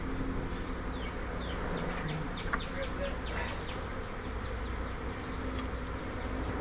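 Bees swarming around a disturbed eight-frame hive, a steady close buzzing hum with individual insects flying past, and a voice speaking faintly in the background.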